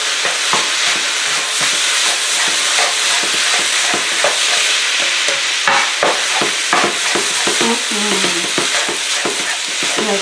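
Sweet potato vermicelli with soy sauce sizzles loudly over high heat in a pan, with repeated close clacks and scrapes of stirring throughout and no voices.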